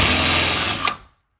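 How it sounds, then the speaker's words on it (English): A power drill whines steadily with a sharp drill bit boring through a metal entry door, close and loud, then cuts off abruptly as the bit breaks through. "a nice sharp drill bit is the way to go here"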